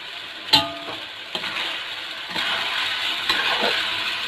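Spices such as turmeric, dried coriander and garam masala frying in a pot for beef pulao, a steady close sizzle with a few sharp stirring clatters, no talking.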